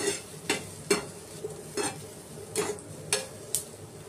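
Vegetables dry-roast in a pan while a spoon stirs them, giving about eight distinct scraping, clacking strokes over a faint, steady sizzle.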